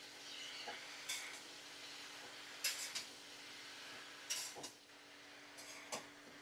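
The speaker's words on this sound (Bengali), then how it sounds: "পালং শাক দেওয়ার পরে ভালো করে আমি নাড়াচাড়া করে নিচ্ছি" Spinach and winter vegetables are stirred in a pan, giving a faint low sizzle punctuated by intermittent scraping sweeps and small metallic clinks of the utensil. No voices.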